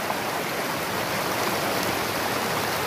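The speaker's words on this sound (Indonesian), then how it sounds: "Ini aliran air Curug Cipamingkis." Flowing stream below Curug Cipamingkis waterfall, a dense, loud and steady rushing roar of water close by, unbroken throughout with no voices.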